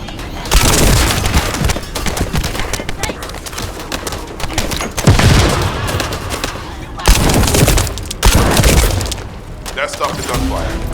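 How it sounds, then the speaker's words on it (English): Heavy gunfire erupts in the shooter video game The First Descendant, with dense bursts of automatic fire and booming blasts coming in loud waves that pause briefly and resume. "That stopped the gunfire."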